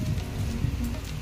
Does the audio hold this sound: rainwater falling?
yes